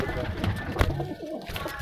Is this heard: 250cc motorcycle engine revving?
no